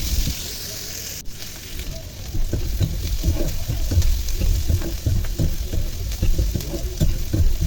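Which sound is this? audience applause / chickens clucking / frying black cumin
frying black cumin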